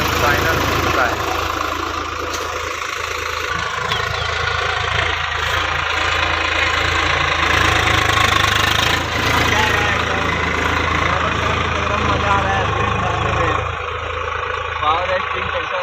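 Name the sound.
Swaraj 735 XT power steering tractor engine running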